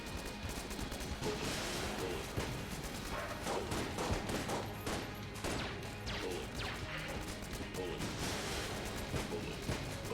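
Rapid, continuous gunfire from the video game Enter the Gungeon, dense bursts of shots and impacts layered over steady game music, with a voice speaking briefly.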